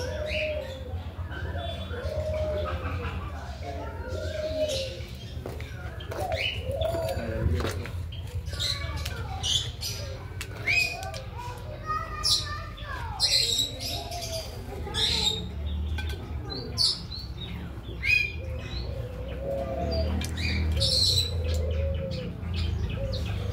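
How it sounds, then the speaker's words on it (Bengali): Pigeons cooing and calling at a bird park, mixed with chirps and squawks from other caged birds, under steady background chatter and someone talking nearby. "এটাও কিন্তু এক ধরনের পায়রা"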